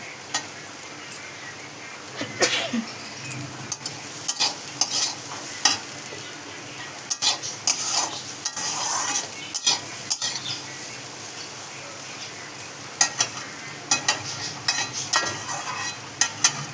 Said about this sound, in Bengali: আলু ভাজাটা পুরো হয়ে গেছে